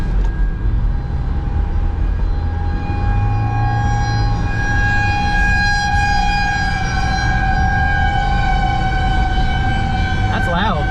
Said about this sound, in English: Still got the sirens going off.